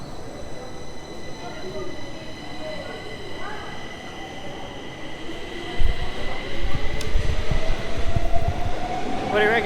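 A Stockholm metro train rumbles steadily nearby, growing louder partway through with rattling wheels and a brief high squeal, with voices faint beneath.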